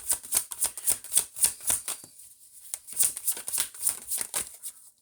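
Tarot cards riffle and slap in quick, crisp bursts, a close run of shuffling with a brief pause in the middle before it picks up again.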